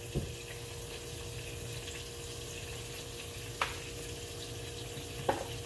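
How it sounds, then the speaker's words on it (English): Oil is poured into a frying pan on the stove for cooking turkey burgers, a quiet, steady liquid hiss running throughout, with a couple of sharp clicks from the pan or bottle. "I'm gonna go ahead and pour some in my pan over here so it can get hot."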